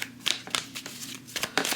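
Tarot cards being shuffled by hand, a quick run of soft papery riffles and slaps in short bursts, close and fairly quiet with no talking.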